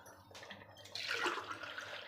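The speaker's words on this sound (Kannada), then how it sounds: "4 ಗ್ಲಾಸ್ ನೀರು ಹಾಕ್ಕೊಳ್ಳೋಣ." Cold water is poured from a glass into a pot of chicken, masala and rice for chicken biryani, a soft splash that swells into a steady, louder gushing pour.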